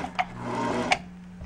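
A Singer 221K sewing machine run by foot pedal, giving a steady close motor hum with a light mechanical whir and two sharp clicks over a brief run.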